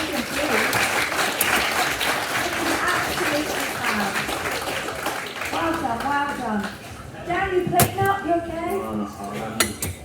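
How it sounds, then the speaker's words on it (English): Audience applause at a live cooking demonstration in Falmouth, a dense wash of clapping that fills the room, with clinking dishes and cutlery, then fades as voices take over. "Nice round of applause for Adrian, please."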